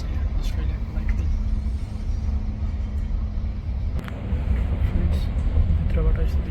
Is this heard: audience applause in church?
no